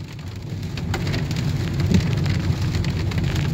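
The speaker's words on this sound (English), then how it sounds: "This is rain. You wanted rain?" Steady rain pours down with a loud, close patter of drops striking surfaces, a continuous dense wash that swells slightly midway, with no one speaking.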